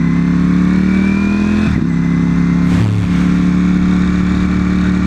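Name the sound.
Ferrari sports car engine revving and accelerating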